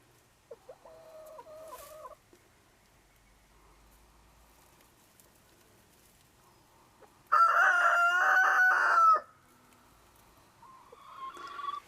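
Backyard chickens at nesting boxes, with brief clucks early, then a loud close rooster crow lasting a couple of seconds, followed by softer clucking and calls.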